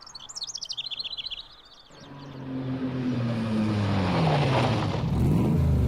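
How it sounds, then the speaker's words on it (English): A red Alfa Romeo's engine in the Phoenix Wright game rises from quiet after chirping birdsong, revving up loud and close with a swelling, accelerating roar. "Vroom! Vroom! That red Alfa Romeo!"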